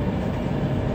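Train running on rails during a passenger ride, a loud, low steady rumble close by for about a second with no talking.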